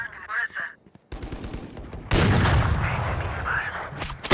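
Gunfire from the video game Valorant: a burst of sharp rapid shots breaks out after a brief quiet, followed by louder sustained firing and a final loud blast.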